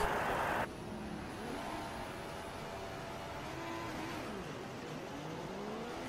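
F2 race cars in a racing video game pull away on the formation lap at the Spanish round, several engines droning and revving together at a steady moderate level, after a brief burst of louder noise at the start.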